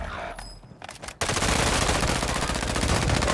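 Loud, rapid automatic gunfire from the video game Warzone bursts in after a short quieter stretch and continues as a dense, unbroken rattle.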